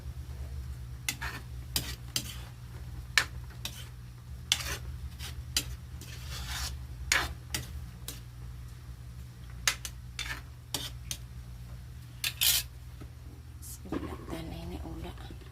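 Oil crackles and sizzles in a pan with frequent sharp pops and stirring scrapes, under a steady low hum, close by.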